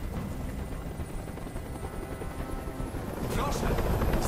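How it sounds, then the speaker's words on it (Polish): Helicopter rotor noise from the Detroit: Become Human game demo, a steady loud broadband thrum that swells toward the end, with voices speaking over it. "Nie mogę już znieść tego hałasu. Każ swoim odwołać helikopter!"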